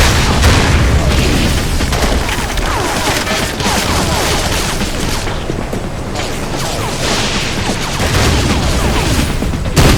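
Continuous heavy booms and blasts of anti-tank guided missile explosions in Battlefield 2: Modern Combat, a dense, loud, unbroken wall of detonations and rumbling battle noise with no pauses.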